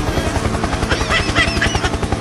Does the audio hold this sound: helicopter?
yes